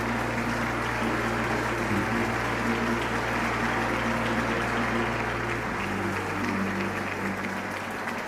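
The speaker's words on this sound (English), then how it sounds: "Let us welcome him with a warm round of applause" An audience at a Korean peace festival applauds a Buddhist speaker, a steady dense wash of clapping lasting several seconds with a low hum beneath, fading slightly toward the end.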